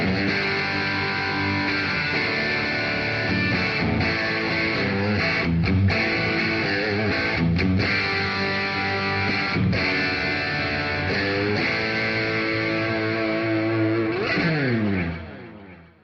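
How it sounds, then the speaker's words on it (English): Electric guitar through a Headrush amp-modeler with a crunchy, mildly distorted tone playing chords and riffs, ringing out and fading to silence at the end. "Here, I set up a little crunch sound."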